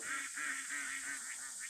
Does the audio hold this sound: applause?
no